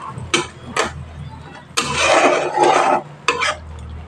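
Masala for kaju potol (cashew and pointed gourd curry) being stirred and sautéed in a pan over a medium gas flame, with close, intermittent scraping bursts and longer stretches of spoon-against-pan rubbing.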